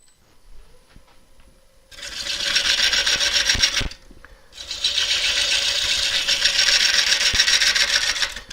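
A wood-turning gouge cuts into a gnarly wooden crotch spinning on a lathe. The loud, close rasping cut runs for about two seconds, pauses briefly over the motor hum, then resumes for a long, steady stretch.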